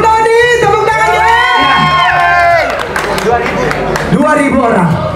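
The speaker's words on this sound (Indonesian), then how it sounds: "tepuk tangannya." A lively crowd at a birthday celebration party cheers and whoops loudly with scattered clapping, excited voices rising and overlapping close by.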